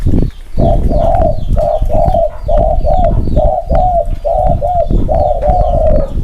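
A spotted dove coos close and loud in a steady repeating series of soft hooting phrases, about ten calls in a rhythmic run over a rumbling outdoor background.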